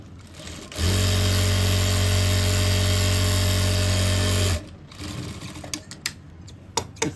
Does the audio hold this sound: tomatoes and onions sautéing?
no